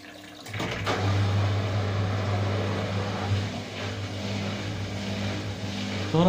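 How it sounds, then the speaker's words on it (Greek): An Indesit washing machine with a fault pumps out its water, a steady low drone with a constant hum and churning, watery noise that runs without a break at moderate loudness. "Τώρα βγάζει τα νερά."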